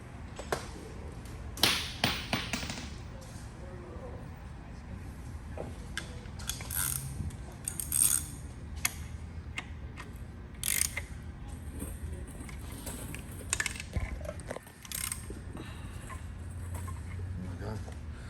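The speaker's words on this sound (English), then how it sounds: "Now we're going to turn the crank so we get the next set." Crankshaft of a Hyundai 3.8 V6 being turned by hand during engine teardown, giving quiet intermittent ratcheting clicks and metallic mechanical clatter in short bursts with pauses between them.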